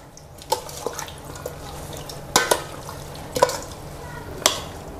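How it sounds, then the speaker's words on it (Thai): Catfish mixture and water stirred in a pot give sharp intermittent clinks and wet drips, a few irregular knocks spread over several seconds against a faint, steady background hiss. "เติมน้ำเปล่าลงไปสักหน่อยนะครับให้เกือบท่วมๆปลาแล้วก็คนคลุกเคล้าให้เข้ากัน"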